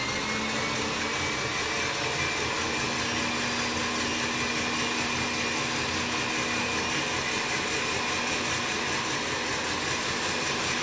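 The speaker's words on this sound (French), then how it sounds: "Moi, je mets du batteur." An electric hand mixer whips a batter for blinis, a steady loud whirring drone running unbroken for about eleven seconds with no talking.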